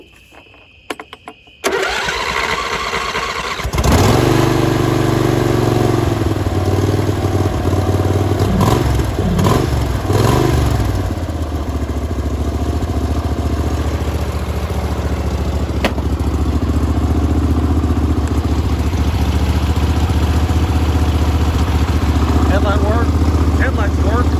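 A mud mower engine, reconditioned after sitting about six months, cranks over with choke and some throttle, catches within a few seconds and settles into a loud, steady running drone with clattering, and a voice may be heard over it.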